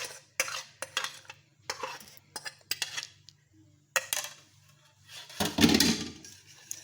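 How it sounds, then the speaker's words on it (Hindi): A spoon stirs and scrapes through a banana dessert mixture in a bowl, sounding as repeated close, clinking strokes in short bursts, ending in a louder scraping flurry; no talking. "इसको भी अच्छी तरह मिक्स कर लूँगी पहले"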